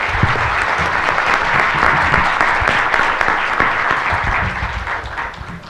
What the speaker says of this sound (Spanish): Les pido un fuerte aplauso para todos los panelistas.